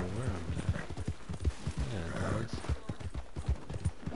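Horse hooves clip-clop in a steady, rhythmic beat in Red Dead Redemption 2 online, close and prominent over a dense, noisy game background.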